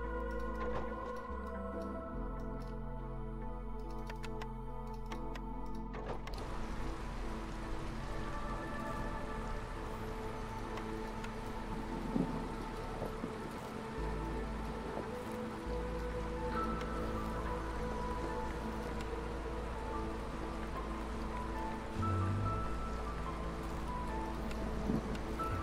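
Steady drizzle patters in the video game Against the Storm, a soft continuous wash of raindrops over quiet background music, faint and even throughout.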